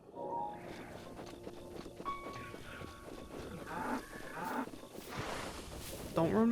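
A water buffalo in the video game The Legend of Zelda: Breath of the Wild lets out low moos amid ambient game sounds, footsteps and light rustling, with a few brief tonal effects.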